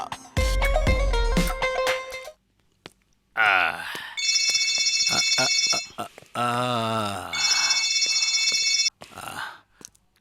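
A telephone in a Bangla action film rings in repeated bright electronic bursts, loud and close, alternating with stretches of dialogue and film sound between the rings.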